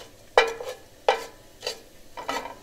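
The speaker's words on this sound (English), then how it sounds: "Then to sizzle our cumin seeds" Cumin seeds sizzle in a couple of tablespoons of olive oil for aloo gobi, with a few sharp bursts of crackle and stirring scrapes over a faint frying hiss, close by.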